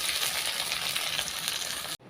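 Onion and garlic frying in a hot kadhai-style wok give a dense, steady sizzle with crackling spatter, close and fairly loud, cutting off abruptly near the end.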